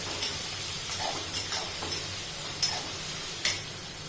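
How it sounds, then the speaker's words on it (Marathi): Chopped onion sautéing in a pan for a spicy cauliflower curry: a steady soft sizzle with a few scraping stirs of a spoon against the pan, close and unaccompanied by talk. "आपल्याला चांगला कांदा परतवून घ्यायचा आहे"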